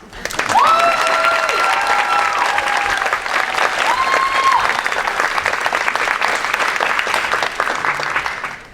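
A theater audience at a new play festival breaks into sustained applause, a dense loud wash of clapping that holds steady throughout, with faint tonal squeals and some murmured voices in the crowd.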